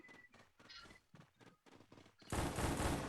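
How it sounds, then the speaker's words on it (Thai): Bursts of gunfire in the Free Fire battle game, an accidental discharge: a run of short sharp shots followed by a dense, loud rattle of rapid fire to the end. "ปืนลั่นปืนลั่น อ๋อปืนลั่น"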